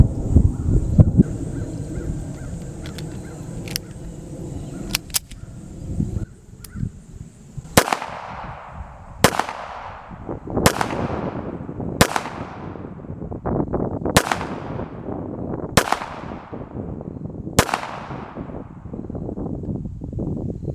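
Bersa Thunder 380 pistol fired at a range, seven evenly spaced loud sharp shots with ringing decay roughly every one and a half seconds, following some quieter handling noise and crow calls early on.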